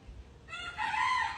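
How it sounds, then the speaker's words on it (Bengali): A rooster crows loudly and close, a single drawn-out call rising after a brief low murmur of fowl. "এই মুরগির আওয়াজে ঘরে থাকতে পারি না"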